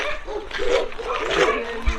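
Several dogs at an animal sanctuary bark and yip close by in a noisy kennel row, overlapping barks filling the moment with some whimpering mixed in.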